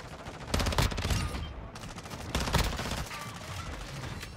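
A sentry turret firing in a Call of Duty match, heard as two rapid bursts of automatic gunfire with a quieter lull between them and a lingering background rumble.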